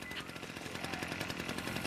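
Chainsaw weapon buzzing in Dead Rising 2, a dense rapid rattling roar that stays continuous and harsh for the whole stretch with no pauses or voices.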